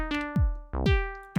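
A simple pattern on an Elektron Syntakt drum machine, with a punchy bass drum kick landing with sustained SY tone notes, two hits about a beat apart, dry and clean with no talk.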